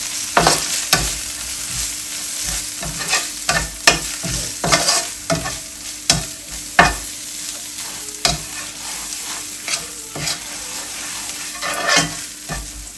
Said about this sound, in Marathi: आता छान सॉटे करूया या मसाल्याने.